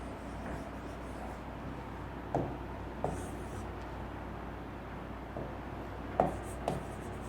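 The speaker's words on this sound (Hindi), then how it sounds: "एक ही सेंटेंस लिख रहा हूं मैं" A sentence is written on a board in short scratchy strokes and taps, faint and close over a steady background hiss, with a few sharper knocks from the marker or chalk.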